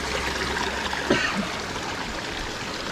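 Water pours steadily from the holy spring spouts at Tirta Gangga in Bali, a continuous close rushing and trickling with a brief splash partway through, loud and alone.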